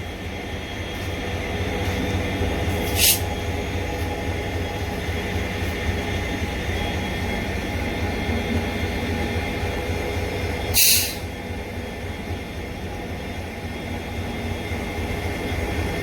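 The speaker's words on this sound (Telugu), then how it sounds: "జాయిగా లూప్ లైన్లోంచి మెయిన్ లైన్లోకి అయితే కరువు కొడుతుంది మన బండి ప్రశాంత్ ఎక్స్ప్రెస్" Prasanthi Express train moving from a loop line onto the main line at Kovvur, a steady low rumble of rolling stock with two brief sharp hissing bursts, fairly distant and without talk.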